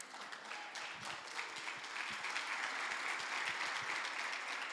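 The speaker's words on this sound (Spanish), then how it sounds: "Que sea para el Señor ese aplauso." An audience at a Christian gathering gives sustained applause, dense even clapping that swells slightly louder and continues throughout.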